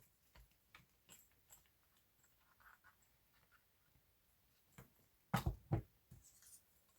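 Faint light dabbing and scratching of an ink applicator around paper edges for a journal page, soft intermittent taps that grow briefly louder near the end.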